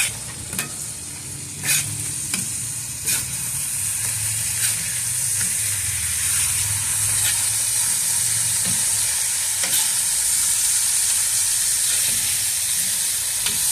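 A smash burger patty sizzles loudly on a hot griddle after being flipped, a steady close hiss with scattered crackles and a few scraping clicks early on, no voices.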